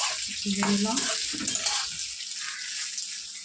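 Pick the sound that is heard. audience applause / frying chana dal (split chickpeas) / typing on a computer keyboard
frying chana dal (split chickpeas)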